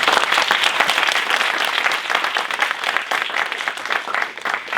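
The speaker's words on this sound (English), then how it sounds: "let's have a big round of applause for a fantastic panel." Audience applause for a panel at a law-careers question-time event, a dense steady clapping that fills the room throughout and tapers slightly near the end.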